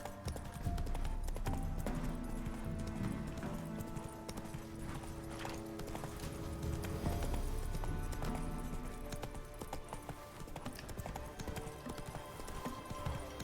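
A horse gallops in The Witcher 3: Wild Hunt, its hooves clip-clopping in a fast, steady rhythm that carries on throughout, mixed with tonal game music.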